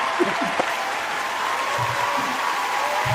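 Applause from a small group in a radio studio after a song during an interview show, a steady wash of clapping that holds for a few seconds at moderate level.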